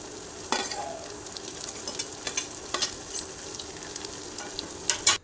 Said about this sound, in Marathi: कांदा थोडासा परतल्यानंतर त्यामध्ये टॉमॅटो आणि हिरवी मिरची कट केलेली घालायची आणि थोडीशी परतून घ्यायची